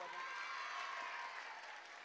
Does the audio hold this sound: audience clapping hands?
yes